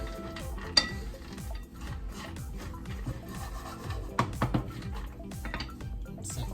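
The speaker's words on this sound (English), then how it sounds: "I want to stir the walnuts up. Stir these up." A spoon stirs walnuts around a pan for walnut candy, making soft repeated scraping and rubbing with a few sharper clinks, fairly quiet and close.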